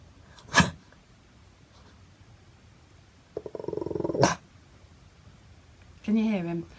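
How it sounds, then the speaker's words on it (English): A dog on squirrel alert in a home office growls and lets out a couple of sharp barks, close and loud, separated by quiet gaps, ending in a drawn-out whining growl. "I currently have Stu That's my dog down in the office with me."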